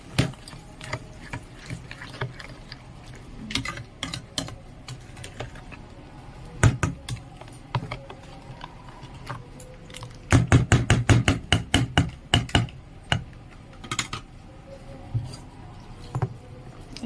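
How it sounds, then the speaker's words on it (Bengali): A fork stirring a ghol buttermilk drink with beet salt, clinking and tapping against the glass in irregular bursts, with a rapid run of taps near the end and no talk. "এবার আমি একটু ভালো করে মিশিয়ে নেব।"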